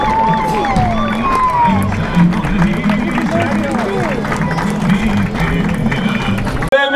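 A crowd at the Valentín Aparcero 2022 riders' festival applauds and cheers, a busy spread of clapping and crowd noise beneath a loud announcer who keeps talking throughout.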